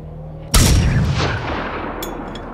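A grenade explodes in the video game Generation Zero, one sudden loud blast after a short quiet lead-in, followed by a long rumbling, crackling decay that fades slowly.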